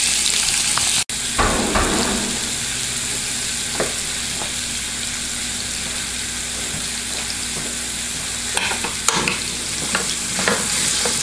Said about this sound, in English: get your pork, place it in a pan, and you want to make sure you cook it